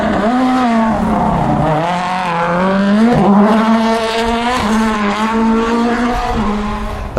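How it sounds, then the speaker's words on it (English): A Toyota Yaris race car passes close by, its engine loud and sustained, the pitch rising and dipping through gear changes across the whole pass. "That was Lappy going through in his Yaris"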